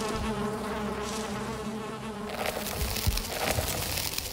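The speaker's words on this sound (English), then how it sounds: "Yep, the first bee that I found." A bee buzzes steadily in the video game Valheim, a continuous droning hum that stays close and fairly even, with slight shifts in intensity and no speech.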